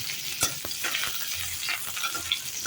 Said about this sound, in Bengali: ওই তেলেই কালো জিরে ফোড়ন দিচ্ছি।